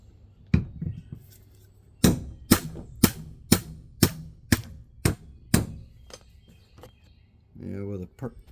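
Hammer taps freeing a stuck part on a PWC WaveRunner: about nine sharp metallic knocks in a steady rhythm, close and loud, with one earlier tap and a brief voice at the end.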